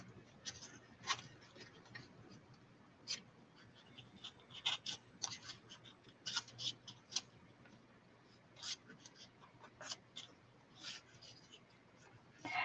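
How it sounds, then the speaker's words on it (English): Scissors cutting paper for an envelope journal, a run of quiet, crisp snips and rustles at irregular intervals, close and soft with brief pauses between cuts. "Scissors work just as well."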